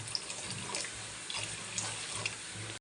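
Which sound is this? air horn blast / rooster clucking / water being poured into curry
water being poured into curry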